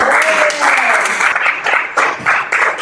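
A church congregation breaks into applause at a French-language sermon, a dense wash of clapping that swells and pulses in bursts for a few seconds, with voices mixed into the noise.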